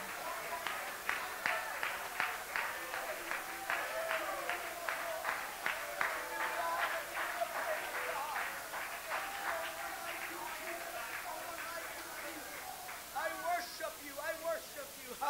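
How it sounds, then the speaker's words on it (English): Church congregation at a revival service clapping hands in a fast, steady rhythm, loud and close, mixed with shouting and praying voices throughout. "Would you clap your hands?"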